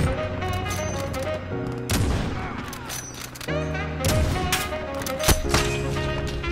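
Repeated booming AX50 sniper rifle shots and other gunfire in Call of Duty Modern Warfare, several sharp loud cracks spaced irregularly over steady game music and ambience.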